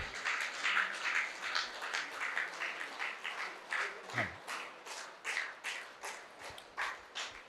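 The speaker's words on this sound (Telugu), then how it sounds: "గట్టిగా చప్పట్లు" An audience applauding to welcome a speaker at a meditation and music gathering, a moderate run of rhythmic clapping that swells and thins, fairly close, with some voices underneath.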